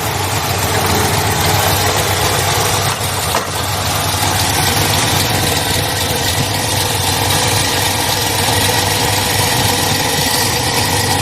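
A Ford truck engine idles in a loud, steady, unbroken drone with even vibration and no revving, heard close up and with no talking.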